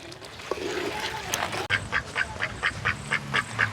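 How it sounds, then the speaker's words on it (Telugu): Ducks quacking close by in a rhythmic series of about eight evenly spaced calls, following a stretch of murky outdoor background noise. "ఆ బాతులు పాపం మేపిచ్చేస్తున్నాయి"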